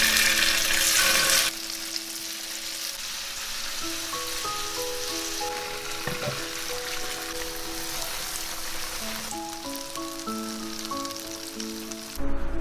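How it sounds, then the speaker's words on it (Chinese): Thick-cut tofu pan-frying in oil in a flat skillet until golden, with a steady close sizzle and crackle running under background music. "把豆腐煎成金黄色。"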